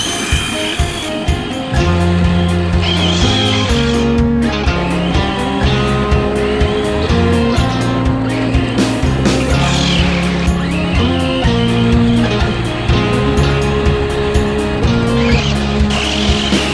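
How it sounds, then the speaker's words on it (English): Brushless-motor MT8 Pirates 2 RC monster truck driving, a loud steady whine with shifting pitch under loud background music, motor surging and easing throughout. "It's an RC car with a brushless motor."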